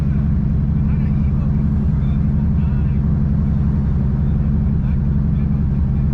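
Interior cabin roar of a boosted Nissan G35 making around 700 wheel horsepower, its engine droning loud and continuous under load. People talk over the noise throughout.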